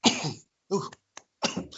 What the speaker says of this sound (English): while you're coughing